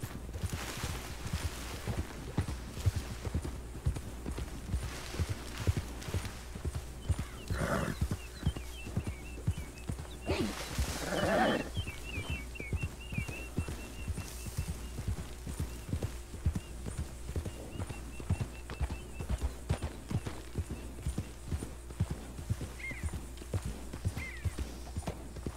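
Steady clip-clopping of a ridden horse's hooves in Red Dead Redemption 2 while searching for wild horses to tame, a constant rhythmic gait with a couple of louder whinnies or snorts partway through.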